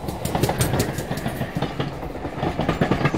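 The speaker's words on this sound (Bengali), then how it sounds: "এমন সময় পাশ দিয়ে একটা ট্রেন চলে যাওয়ায়" A train passes close by, giving a steady rhythmic clickety-clack of wheels over rails with a rumbling undertone and no voices.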